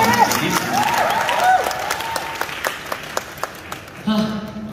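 Audience applause at a press conference, a steady broadband patter of many hands under a voice, ending with a brief surge of cheering near the close.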